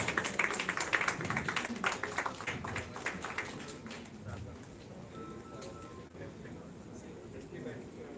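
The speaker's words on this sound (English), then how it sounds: "Please give them a big round of applause." At a film festival award ceremony in India, an audience gives a burst of applause, quick crowded clapping that is strongest at first and then tapers off into quieter room murmur and faint voices.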